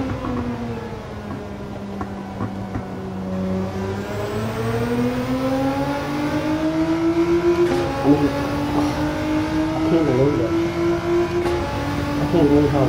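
A race car engine in Gran Turismo 7 drones loudly and steadily, its pitch climbing and dipping through gear changes, with rising revs toward the end.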